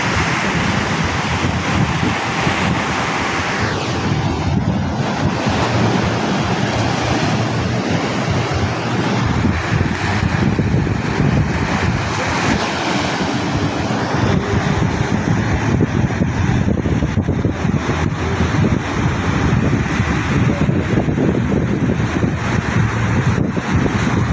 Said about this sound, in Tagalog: Grabe ang alon, oh.